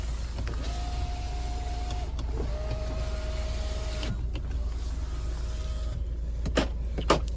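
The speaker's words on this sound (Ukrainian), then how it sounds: "Чотири віконця у нас йдуть із доводчиками." Power windows on an Audi or Volvo car hum up and down in several separate runs, each a steady whirring motor tone ending in a soft stop, close by in a quiet cabin, followed by a few light clicks.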